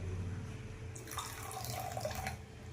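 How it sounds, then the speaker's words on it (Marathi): Water pours into a bowl of whisked curd while making a fasting chutney, a brief close splashing trickle that starts partway through and runs for under two seconds before stopping, with no talking. "तर मध्ये थोडंसं पाणी टाकून घ्यायचंय."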